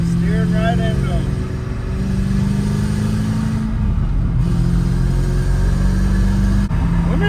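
A Ford Thunderbird corners and drifts with its engine droning and revving loudly throughout, a steady rumbling roar with shifting pitch, while people talk and exclaim over it.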